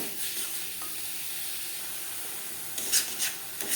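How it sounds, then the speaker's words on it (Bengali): Soft, close scraping and sizzling as grated coconut is stirred into melted jaggery in a hot pan, with a few sharper scrapes of the spoon against the pan near the end. "গুড়ের সাথে নারকেল বেশ ভালো করে মিক্সড করে দেব।"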